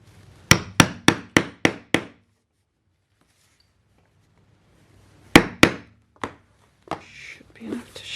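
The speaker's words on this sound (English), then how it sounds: "Just got a sharp bradawl and a hammer." Six sharp hammer taps on a bradawl punching holes through paper in quick succession, a pause, then a few more irregular knocks and light handling noises, close and crisp.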